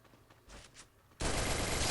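Gunfire in a shooter game played on an iPhone 6S during a championship match: a few faint, scattered shots, then a sudden loud, sustained burst of rapid fire.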